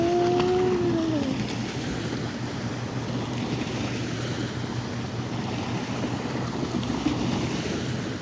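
Ocean waves roll onto the shore in a continuous broad wash of surf mixed with wind noise, steady and fairly loud, with a brief whistle-like tone near the start.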